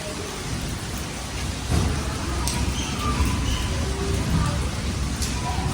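Steady rain patters in the background while someone talks over it.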